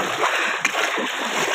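Feet splashing and sloshing through knee-deep floodwater in a flooded village, a continuous close wash of water with one sharper splash midway and no clear speech.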